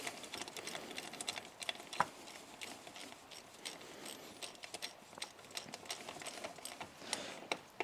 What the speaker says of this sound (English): you can bring your socket in here just to speed up the process